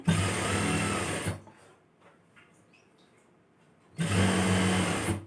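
A sewing machine runs a dummy stitch along a chudithar neck in two fast mechanical bursts, one at the start and one near the end, with a quiet pause between them.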